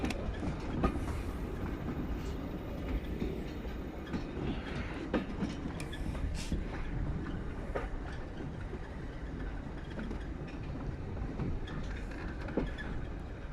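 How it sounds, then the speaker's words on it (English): A diesel heritage train on the Swindon & Cricklade Railway rolls steadily along the rails, heard from inside a first-class compartment carriage as a continuous rumble with occasional sharp clicks and knocks. "This is the diesel service as opposed to the steam service."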